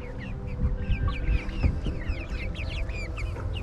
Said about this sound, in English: these are the friendliest chickens in the world.